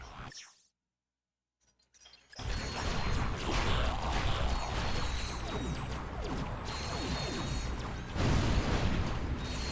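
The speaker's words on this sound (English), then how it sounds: "Dread Zone challenges sometimes use bolt cranks to activate devices or lower force fields" Mechanical ratcheting and clanking of a bolt crank turning in the Ratchet: Deadlocked video game, dense and steady after a brief silent gap, with sharper bursts near the end.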